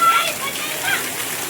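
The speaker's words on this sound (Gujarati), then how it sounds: "તો વરસાદ ફૂલ ચાલુ છે અત્યારે." Heavy rain pours down in a steady, dense hiss of falling water that fills the whole moment without pause.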